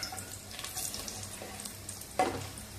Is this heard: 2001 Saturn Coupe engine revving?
no